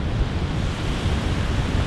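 Ocean surf breaks on the shore, loud and close, a continuous broadband roar of waves mixed with wind buffeting the microphone.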